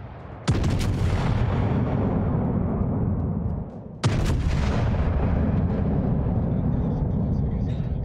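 Two loud naval gun salvos boom out in World of Warships, one near the start and another about halfway through, each a sharp broadband blast trailing into a long rumbling roar over steady engine and sea noise.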